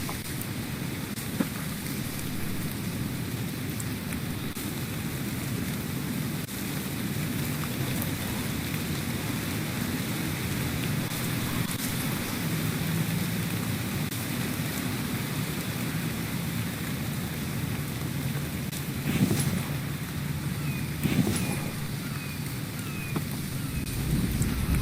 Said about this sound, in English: because it's raining, we have to build a shelter